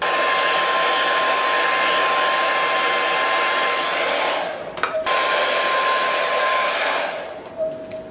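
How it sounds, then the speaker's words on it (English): Hair dryer blow-drying hair over a round brush, a loud, steady close-up whoosh held for several seconds, briefly dipping and returning before trailing off at the end. "take the round brush and blow dry my hair this way"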